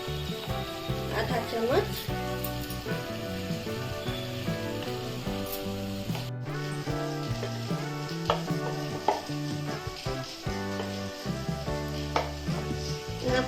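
Rajma masala with spices frying in a pan gives a steady, loud sizzle throughout, with a person talking over it.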